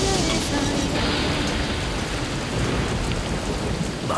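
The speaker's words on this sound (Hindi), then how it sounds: "ये बारिश तो कम होने का नाम ही नहीं ले रही है" Heavy rain pours down steadily in a dense, loud hiss with a low rumble of thunder underneath, unbroken for the whole few seconds.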